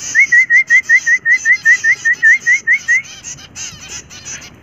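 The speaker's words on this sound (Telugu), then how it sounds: "మొత్తం అన్నీ ఇట్లా విజిల్ సౌండ్స్కి రెస్పాండ్ అవుతున్నాయి మంచిగా" Zebra finches in a rooftop garden answer a person's rhythmic whistling: a string of about fifteen quick, evenly spaced whistled notes runs alongside bright, busy bird chirps, then the whistling stops and the birds chatter on alone.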